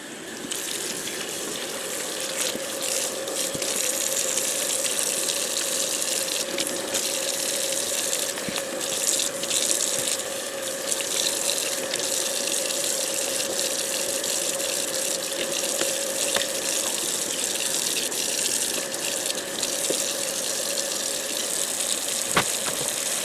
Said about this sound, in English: I'm aware I've got the water still running